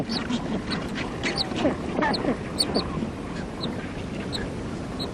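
A newly hatched penguin chick gives thin, high peeping calls, repeated in short bursts over a soft backdrop of wind and low ambient sound.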